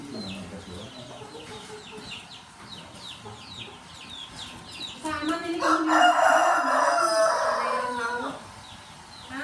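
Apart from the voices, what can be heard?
chickens clucking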